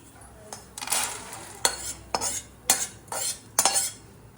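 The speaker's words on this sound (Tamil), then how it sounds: "கருகாமல் இந்த மாதிரி வாசனை வரா மாதிரி இந்த மாதிரி வறுத்துடணும்" Chana dal and toor dal dry-roasted in a pan for pirandai podi, stirred with a utensil that scrapes the metal in about seven distinct bursts, rustling grains between strokes, close and clear with no talking.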